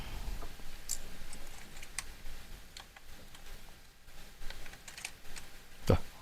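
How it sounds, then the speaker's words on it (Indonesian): Computer keyboard keys pressed during troubleshooting of a faulty keyboard, giving a scattered run of light clicks and taps at close range with a louder click near the end, no talk. "Pencet-pencet dah, ini namanya keyboard lagi aktif."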